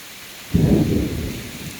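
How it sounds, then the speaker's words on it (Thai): A sudden low rumble of thunder breaks in and slowly fades during a strong storm with heavy wind, rain falling steadily throughout. No voices. "ฟ้าก็ร้องตุ่มตามตุ่มตามเลยนะครับ"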